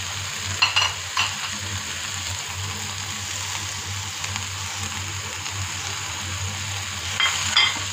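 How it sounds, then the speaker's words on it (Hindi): Capsicum, onion and spices fry steadily in a pan, a continuous sizzle with scraping stirring strokes near the start and end, no voices. "और 1/2 मिनट के लिए इसको फ्राई करेंगे।"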